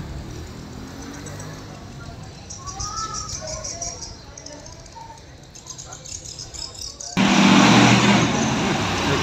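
Armada Indah intercity bus passing along a town road in Tanjung Pura, Aceh at night, steady engine and traffic rumble with a surge of loud roaring noise near the end, faint chirps in the background.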